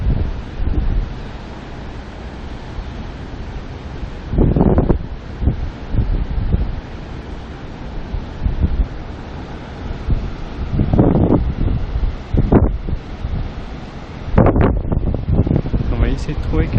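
Heavy ocean swell and strong wind at Curio Bay, New Zealand, with gusty microphone buffeting and surging waves rising and falling loudly over several seconds.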